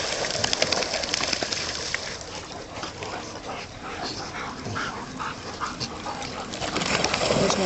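A dog whimpers and yips during off-leash recall training with distractions outdoors, the whines recurring in short bursts over a steady wash of background noise.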